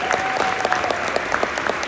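Dense, loud applause from a crowd at a high school state wrestling pep assembly, continuous and close, filling the whole moment.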